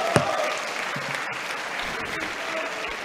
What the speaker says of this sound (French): les Républicains qui applaudissent la charge contre l'autoritarisme